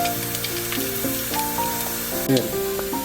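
Onion and garlic fry in a hot pan with a steady hiss and crackle, partly masked by louder melodic background music, with a brief clatter near the end.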